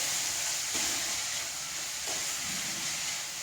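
Banana stem and sprouted green gram thoran frying in a pan hisses with a constant close sizzle, broken by a few soft stirring scrapes, with no talking.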